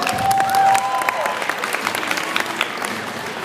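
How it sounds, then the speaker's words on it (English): An audience gives a big, loud round of applause with some cheering mixed in, dense clapping throughout, a whistle-like tone near the start and voices faintly underneath. "give him a big round of applause."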